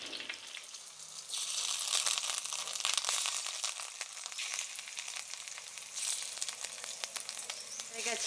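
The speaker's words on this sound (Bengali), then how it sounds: "এখন বড়া দিয়ে দেব, মাছের ডিমের বড়া।" Fish-egg fritters drop into hot oil and fry with a loud, steady sizzle that swells after the first second and crackles on without pause.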